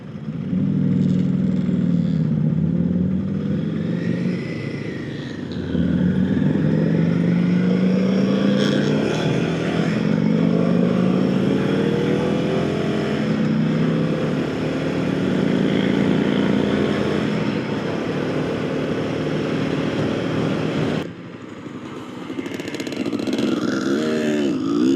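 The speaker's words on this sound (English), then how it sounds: "Yeah, this bike takes a little while to get up to speed," A 2025 Royal Enfield Himalayan motorcycle being ridden, with a continuous engine drone rising and falling in pitch through gear changes, mixed with steady wind rush for the whole stretch.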